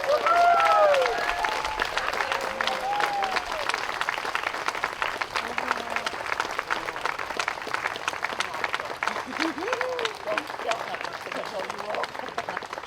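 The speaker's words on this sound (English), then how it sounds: "please, everybody, stand up, clap, and thank her." An audience at a conference keynote applauds with steady clapping that holds for about thirteen seconds, at a moderate level that thins slightly after the opening seconds, with some talk heard over it.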